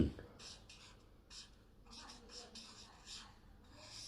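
Hand writing of large characters on paper, a series of soft scratchy pen strokes in short bursts, fairly close and quiet, with faint room noise and no talking.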